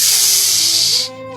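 A snake hiss in a children's story: one steady, loud, breathy hiss lasting about a second, then cutting off.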